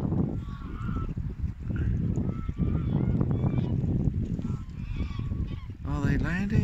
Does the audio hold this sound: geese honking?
yes